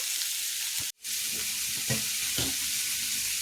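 Onions and green chillies fry in a pan, a steady loud sizzle that briefly cuts out once, with soft scraping stirs every half second or so.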